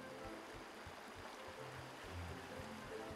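A river flows in the video game Pine, making a soft, continuous watery rush at low level with faint low thumps underneath and no speech.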